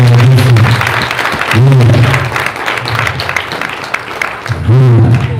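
A crowd at a political diaspora convention in Chicago applauds in a steady wash of clapping, while a loud amplified voice speaks over it in repeated stretches.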